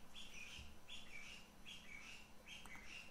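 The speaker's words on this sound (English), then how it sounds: "That's a talkative bird there." A talkative bird chirps in repeated bright bursts, about four phrases in quick succession, faint against a quiet indoor background with no voices.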